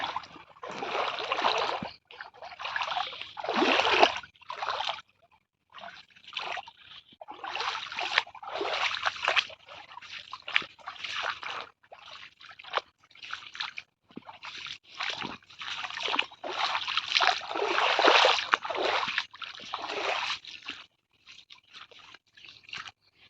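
Water runs and splashes through a small stream channel in the rain, a close, continuous wash with uneven bursts of sloshing and trickling that swell and fade throughout.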